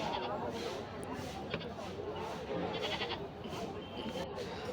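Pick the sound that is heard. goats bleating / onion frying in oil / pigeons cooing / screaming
goats bleating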